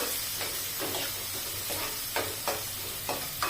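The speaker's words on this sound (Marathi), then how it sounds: "कांदा दोन मिडियम साईजचे कांदे घेतलेले आहेत हे परतून घेऊ" Two medium onions sauté in a hot pan, a soft steady sizzle punctuated by rhythmic spatula stirs and scrapes roughly every half second, close and moderately quiet.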